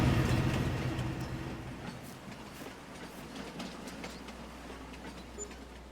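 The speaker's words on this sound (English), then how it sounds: "Then the train will go off without us, and we'll have to watch our crop sell for us." Train in Farming Simulator 22 rolling along the rails with a steady rumble and rhythmic clickety-clack of the wheels, loud at first and slowly easing off, with no talk.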